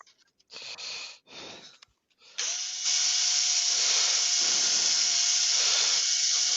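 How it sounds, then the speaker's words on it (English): A drill fitted with a sanding attachment lightly sands a turned wooden bowl, starting with a few short bursts and then settling into a loud, steady, hissing whir with a faint tonal whine, running alone without talk. "I'll just give it a light sand up with my flat drill"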